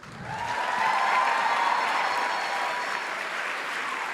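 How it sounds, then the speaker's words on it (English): A crowd applauds an award winner at a book awards event, a dense, even wash of clapping that swells early and stays strong and sustained throughout. "Please give a big round of applause to the winner of this year's NBCC Award for Autobiography"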